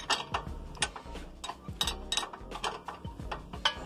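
A wrench loosening the rear wheel axle nut on a motorcycle, heard up close as a quick run of sharp metallic ratchet clicks in an uneven rhythm, with no talking.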